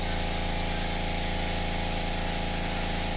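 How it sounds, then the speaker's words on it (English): An airbrush or spray gun lays paint over a 3D printed clone trooper part, giving off a dense, continuous hiss with a steady mechanical drone beneath it, close and unbroken. "I'm just going to start spraying this over the top."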